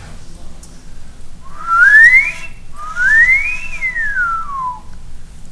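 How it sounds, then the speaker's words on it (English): A person whistles into an open pipe, giving two resonant tones: one rising sweep, then a sweep that climbs and falls again, loud and close with a faint background hum. "Now I'm going to whistle like that into the pipe."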